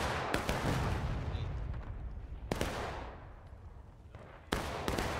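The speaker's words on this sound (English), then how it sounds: "I missed that arty shot." Artillery cannon firing in the Civil War game War of Rights, several sharp booming shots spaced a few seconds apart, each trailing off in a rolling echo, fairly distant and moderately quiet.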